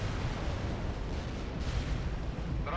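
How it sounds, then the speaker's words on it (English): Tu-95 bombs strike the ground in World in Conflict, a dense, sustained rolling roar of overlapping blasts and heavy rumble, loud and continuous with a sharper burst near the end. "Tu-95 bombs and touching down now"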